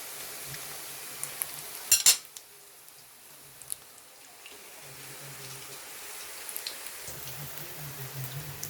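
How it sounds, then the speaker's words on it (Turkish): Thin slices of eggplant frying in oil, a faint steady crackle and sizzle with a few sharp clicks and pops early on, quiet and close. "Aynen böyle kızartıyorum. Çok ince dilimler halinde kestim patlıcanları."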